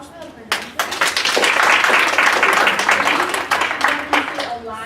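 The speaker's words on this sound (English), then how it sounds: "one more round of applause for the presenter" Audience applause for a presenter at a student leadership academy winter workshop, a dense burst of clapping that swells, holds for several seconds, then thins out, with a voice speaking underneath.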